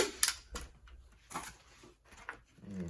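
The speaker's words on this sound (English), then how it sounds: "And put your staple right there." Staple gun driving staples through canvas into a wooden stretcher frame, a few sharp snapping clacks spaced irregularly, close and fairly quiet.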